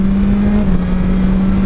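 A BMW S1000XR motorcycle engine runs at a steady drone, loud and close, with a sustained even tone and constant road and wind noise.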